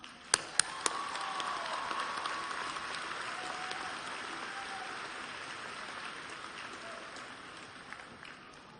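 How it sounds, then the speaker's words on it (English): A large crowd applauds at the Fitchburg High School 2016 graduation ceremony, a dense, steady wash of clapping that holds for several seconds. A few sharp, distinct claps pop out at the start, then the sound slowly thins. "I think that deserves another round of applause."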